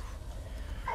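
A dog in the war video game Soldats Inconnus gives a short, faint bark or yip near the end of a quiet stretch, alone without talk.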